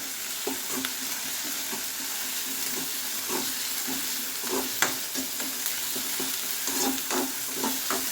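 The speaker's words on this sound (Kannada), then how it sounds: "ಇದು ಸ್ವಲ್ಪ ಫ್ರೈ ಆಗಲಿ ಹಸಿ ಶುಂಠಿ ಬೆಳ್ಳುಳ್ಳಿ ಪೇಸ್ಟು ಈರುಳ್ಳಿ ಎಲ್ಲ ಸ್ವಲ್ಪ ರೆಡ್ ಕಲರ್ ಬರಲಿ" Raw ginger garlic paste and onion fry in a pan for tomato rice, a steady sizzle broken by repeated spatula scrapes and light clinks at an even stirring rhythm, close up with no talking.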